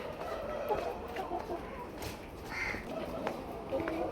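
Farm chickens cluck and chatter continuously at close to moderate distance, with occasional sharper calls and a faint murmur of voices in the background.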